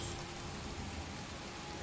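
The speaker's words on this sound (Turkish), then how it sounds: "Burada da sürekli yağmur yağıyor" Steady rain falls in the Heavy Rain game, a dense, even hiss of drops on surfaces, constant and moderately loud with no talking.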